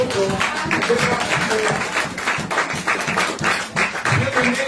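A church congregation claps along in rhythmic, fairly close bursts, repeated handclaps forming a steady beat with some voices mixed in.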